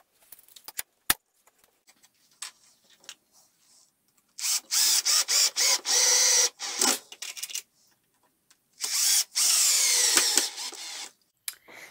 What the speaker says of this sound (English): Now what I need to do is drill a hole through the frame and into the top